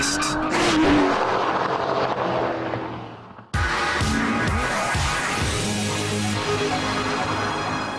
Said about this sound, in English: we saw Tiff thrashing an Aston Martin DBS